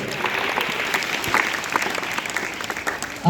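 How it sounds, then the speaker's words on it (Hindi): A group of children claps for a girl in a school classroom during an earthquake mock drill, a steady burst of close, dense applause that carries through with no talk over it. "एक बार इस बेटी के लिए ताली बजाओ।"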